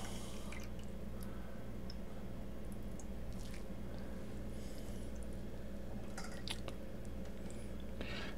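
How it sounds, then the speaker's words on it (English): Milk casein curds wrapped in cheesecloth are squeezed by hand to press out the excess liquid. Close, wet squishing runs over a steady low hum, with occasional drips and squelches and no speech. "Squeeze out the excess."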